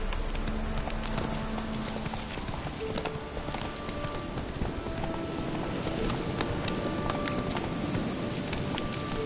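Roach, the horse in the video game Witcher 3, gallops with a steady, rapid rhythm of hoofbeats. Soft rain-like ambience and faint tonal game music sit underneath, and no one talks.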